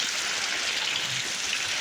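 Heavy rain pours down steadily in a village, a dense, even hiss of water falling on surfaces nearby, with no other sounds standing out.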